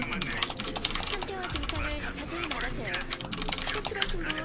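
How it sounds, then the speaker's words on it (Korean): Rapid, continuous clacking of a computer keyboard being typed on, crisp and close, while voices talk over it. "근데 키보드 소리 왜 이렇게 찰지냐?"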